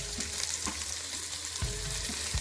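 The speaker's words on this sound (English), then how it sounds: "Into the ghee and some cardamom." Cardamom and cloves sizzle in hot ghee with a steady, close hiss and frying crackle, a few soft pops and stirring knocks scattered through, no voices.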